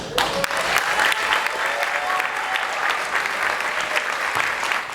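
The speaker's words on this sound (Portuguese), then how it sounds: "para que ele pedir um aplauso" Sustained applause from an audience at a tribute ceremony for an arts project, a dense even wash of clapping held at steady loudness, with a faint voice behind it.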